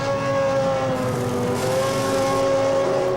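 A Williams Formula 1 race car from the 2000 season entering the pits gives a loud, steady, high-pitched engine whine that holds an even tone throughout, alone with no talking.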